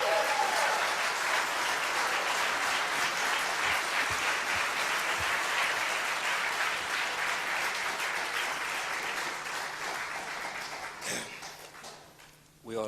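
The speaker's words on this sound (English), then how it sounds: "We ought to hold the applause till the end" A debate audience applauds at length, a thick, even wash of clapping that slowly tapers over about twelve seconds, ending with a brief thump.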